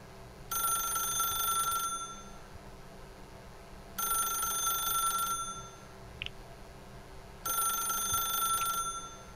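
An old telephone in The Stanley Parable rings in three long, even bursts with pauses between them, clear and fairly loud, with no voices.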